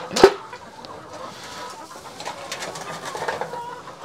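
Laying hens in a large greenhouse in winter cluck and coo softly, with one sharper squawk near the start and scattered calls after, fairly close and without talk.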